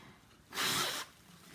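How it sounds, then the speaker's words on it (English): A person blows their nose once, producing a single loud, close, breathy honk that lasts about half a second, preceded and followed by quiet room tone. "sorry, I gotta blow my nose."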